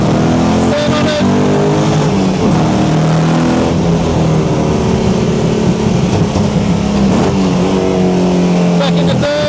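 A race car at Winton circuit roars loudly and steadily, its engine note climbing and dropping through repeated gear changes and throttle pushes, while a driver talks over it throughout.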